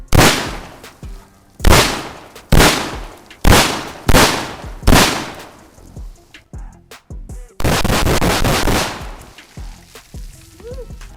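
Loud shotgun blasts fired one after another, about seven sharp reports spaced roughly a second apart, each with a decaying tail, followed by a longer burst of rapid repeated fire.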